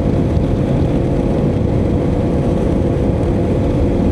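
A loud, steady motorcycle engine drone with rumbling low-end and wind buffeting, continuous and close, with no talking, on a ride in San Jose, Tarlac.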